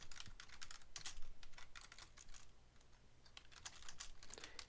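Keys clatter on a computer keyboard in quick uneven bursts of close, soft clicks, pausing briefly before resuming, over a quiet room with no voices.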